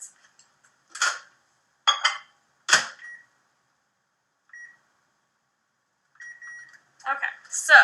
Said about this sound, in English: I'm just going to microwave this for 2 minutes.